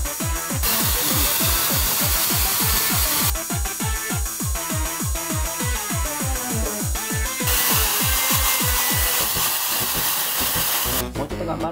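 A Jellyfish pet hair dryer runs steadily while drying a pet, a loud continuous blowing hiss with rhythmic fluttering pulses and shifts in airflow strength, cutting off near the end.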